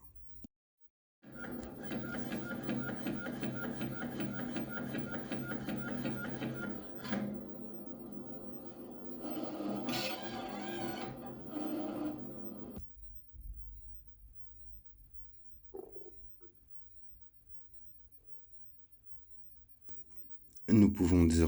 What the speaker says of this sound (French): Je peux à nouveau imprimer une étiquette.